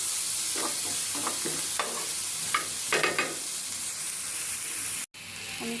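Bitter gourd pieces fry in a pan with a loud, steady close-up sizzle, while a spatula stirs them in a series of soft scraping strokes, with a brief cut near the end.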